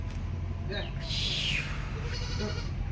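A newly bought goat bleats on a farm, a wavering cry near the middle of the clip over a steady low rumble, with a person talking around it.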